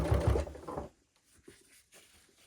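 A sewing machine stitches a short run forward and back on a dressmaking seam, a close, loud rapid whir for under a second followed by quiet fabric handling sounds.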